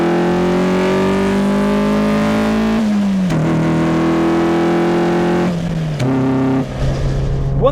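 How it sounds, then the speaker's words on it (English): A lower-horsepower sports car climbing a mountain road, its engine drawing air through a cone air filter with a loud, steady droning intake howl that holds through each gear and drops in pitch at two upshifts, heard from inside the car. "the noise coming from that cone air filter just makes the experience so much better"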